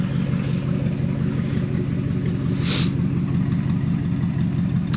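An older rust-covered pickup truck with a suspected blown head gasket idles for minutes after a K-Seal treatment, giving a steady, close, even low rumble with no talking.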